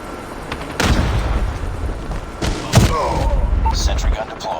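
Gunfire and explosions in Call of Duty Mobile, with booming blasts and bursts of shots over a busy battlefield bed while game voices call out in the background.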